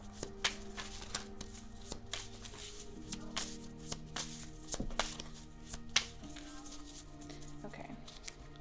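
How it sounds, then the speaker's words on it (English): Tarot cards are shuffled and drawn by hand, a steady riffling patter of card edges with sharp slaps and flicks scattered throughout, close and clear with no voice. "I'm going to pull 3 cards to examine these creative parts of you"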